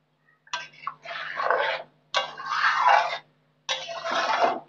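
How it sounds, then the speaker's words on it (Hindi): Water pours from a vessel into an elephant foot yam (ol/suran) curry cooking in a pan, in three separate splashing pours of about a second each, close and clear with silence between. "अब इसमें पानी डाल देंगे"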